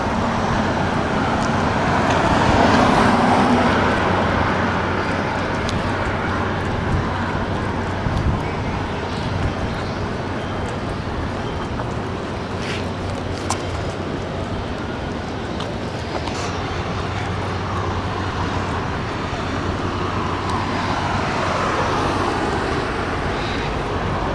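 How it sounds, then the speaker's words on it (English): Steady road traffic with cars passing near a riverside spot by a restaurant at Reversing Falls, a continuous broadband rumble holding at an even level for the whole stretch with occasional swells as vehicles go by. "you're going to hear a lot of traffic, you're going to hear a lot of cars"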